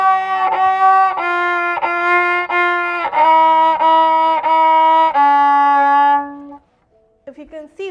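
Violin bowed with an improperly held bow, a run of separate sustained notes with strong harmonics and slightly uneven, sliding attacks, loud and close, followed by a short quiet gap and a few faint scratchy strokes at the end.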